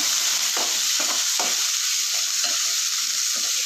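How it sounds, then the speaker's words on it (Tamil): Chopped tomatoes sautéed in a pan for an idli-dosa chutney, a constant bright sizzle broken by several scraping spatula strokes, close and loud. "இப்போ தக்காளி போட்டு நல்லா வதக்கிடலாங்க"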